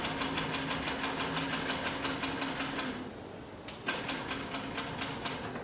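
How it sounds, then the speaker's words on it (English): A sewing machine stitches through two layers of 3 to 4 ounce leather, running in a steady fast mechanical rhythm, pausing briefly midway, then resuming at the same even pace, close and fairly quiet with no talking. "I'm going to put 2 layers of approximately 3 to 4 ounce leather in the machine, and we're going to go ahead and sew with it a little bit."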